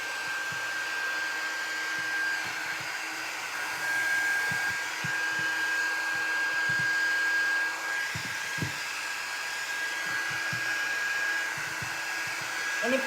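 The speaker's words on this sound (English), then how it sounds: "I'm just going to turn my heat gun." A heat gun blows hot air onto glue strings on wooden craft Christmas trees, giving a steady, close whooshing drone with a faint whine, and small handling knocks underneath.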